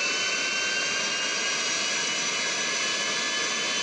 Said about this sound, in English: here the engines are propelling the plane forward